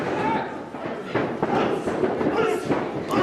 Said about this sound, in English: A series of strikes to Dasher Hatfield.